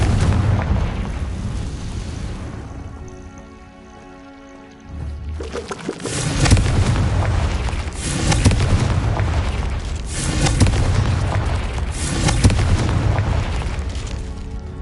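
Confringo fire blast spell in the video game Hogwarts Legacy, a loud booming explosion that swells into a sustained roaring, rumbling blast with repeated surges, heard alone without talking.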